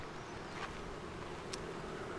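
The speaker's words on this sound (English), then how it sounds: "Oh, I got bees inside." Honeybees buzz inside a beehive that may be preparing to swarm, a soft continuous humming drone of many bees at low level, with a couple of brief closer buzzes passing by.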